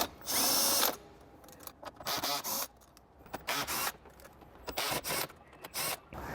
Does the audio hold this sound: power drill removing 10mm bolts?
yes